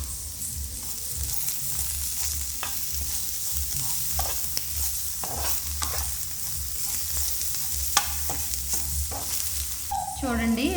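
Ridge gourd peel, garlic, tamarind, salt and turmeric frying in a pan on a stove, a continuous sizzle with regular stirring scrapes throughout, close up, ending with a brief higher clatter.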